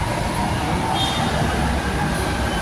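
An MRT train pulls into a station platform, a steady loud rolling rumble of rail cars filling the whole span with a faint brake squeal partway through.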